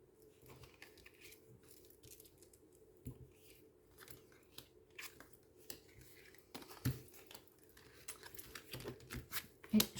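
Tarot cards flipped over one by one on a table, giving soft, faint papery snaps and scrapes in an irregular run, louder toward the end, with a quiet voice speaking in the background.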